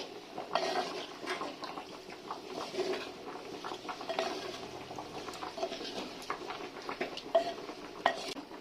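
Handi chicken in a pot with a little added water is stirred by hand, giving irregular close scraping, clinking and soft wet patter from the spoon against the metal.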